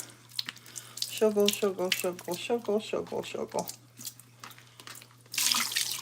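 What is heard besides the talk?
sink filling with water from the tap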